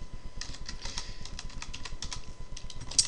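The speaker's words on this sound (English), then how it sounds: "You simply type in your login credentials that were provided to you by the administrator" Rapid, light clicking of keys on a computer keyboard as login credentials are typed, a steady run of close taps at modest volume with no talk.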